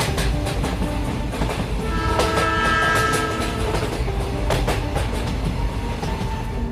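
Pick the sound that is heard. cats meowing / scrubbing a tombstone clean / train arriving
train arriving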